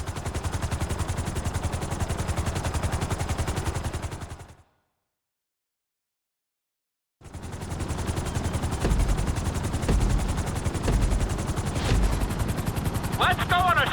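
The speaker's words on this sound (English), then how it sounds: "we're going to put you in a helicopter for this lesson" Helicopter in Grand Theft Auto V flight school, a loud continuous rotor chop that cuts out briefly to silence, then resumes with a few sharp clicks near the end.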